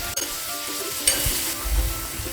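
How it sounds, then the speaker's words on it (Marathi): Oysters sautéing on onions over a high gas flame, a steady close sizzle with soft stirring scrapes and a brief louder burst partway, no talking. "असं ह्या कांद्यावर कालवे चांगले परतून घ्यायचे"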